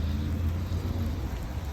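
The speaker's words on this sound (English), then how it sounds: "It is raining. It is nasty." Rain falls outdoors in nasty weather, a steady, fairly loud wash of patter with a low rumble beneath it, continuous and without any voices.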